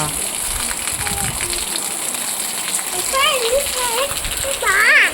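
The year's first rain falls as a steady broadband hiss of drops on surfaces, with voices talking faintly over it toward the end.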